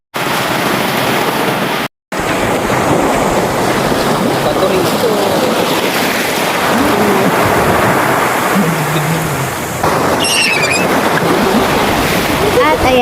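Waves wash loudly and continuously on a beach, mixed with heavy wind buffeting the microphone and a brief break near the start.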